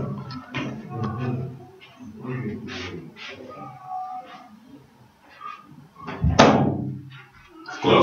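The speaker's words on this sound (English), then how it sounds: "Close the door." A door closing indoors, with a solid thump late in the clip, amid a person's talking and household noises.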